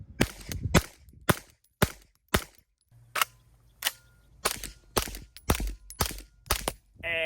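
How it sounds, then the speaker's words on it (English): A CZ Scorpion pistol-caliber carbine fired through a HuxWrx Flow 9K Ti titanium suppressor, a rapid string of about a dozen sharp, suppressed reports in quick irregular succession, loud and close with brief quiet gaps. "And a mag dump. The CZ Scorpion."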